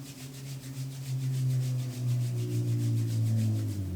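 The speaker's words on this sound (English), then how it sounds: "bring your hands together and rub them" Palms rubbed briskly together during a Kundalini yoga practice, a steady close swishing friction with a faint rhythmic pulse, continuous for several seconds.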